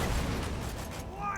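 An explosive cannon-style rifle fires in Borderlands 2, giving a dense, booming blast with a rumbling low-end tail that fills the short moment, with a voice faintly present underneath.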